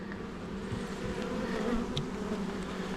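Honey bees buzz in a dense, continuous drone during a Long Langstroth hive inspection, close by, with a few individual insects flitting louder past the steady hum.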